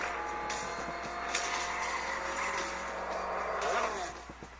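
Racing cars in Real Racing 3 played on an HTC One, a steady whining engine drone with shifting pitch and brief screeches, fairly quiet and tapering off at the end.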